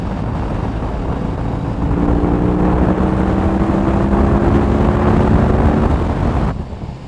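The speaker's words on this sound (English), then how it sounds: "Every time I downshift, I just love feeling the bike sort of rattle itself there, rock itself back and forth." A 2022 BMW R18 motorcycle rumbles while riding and downshifting, a low engine drone over heavy wind rush, with a steady droning tone swelling through the middle before dropping away.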